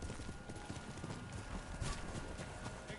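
Horse hooves clip-clop steadily across the whole stretch in the Ghost of Tsushima video game, a dense, continuous trot of clattering beats, with a brief whinny-like burst near the middle.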